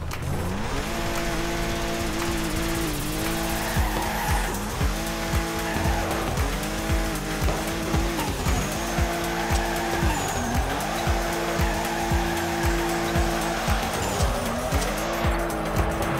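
A race car in a racing video game: loud, continuous engine drone that repeatedly rises and drops as it shifts gears through corners, with frequent tire squeals, and no talking.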